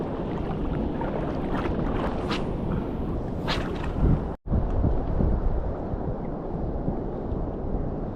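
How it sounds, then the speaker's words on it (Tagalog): Strong wind buffets a nearby microphone with a constant low roar, briefly cut by a short dropout midway, then rumbling on. "May hangin na naman."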